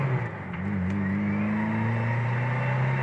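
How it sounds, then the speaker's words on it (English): A 1989 Ford Thunderbird replica accelerates hard from close by, its engine note rising steadily with a turbo whine layered over the deep rumble, loud and continuous for a few seconds with no talking. "You can hear the turbo."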